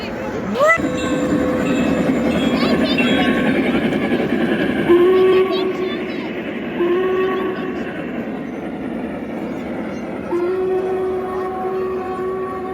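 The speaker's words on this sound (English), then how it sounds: "Here it comes. Here comes the train." A train passes in Milwaukee, rumbling steadily nearby as its horn sounds several sustained blasts, with people talking over the noise.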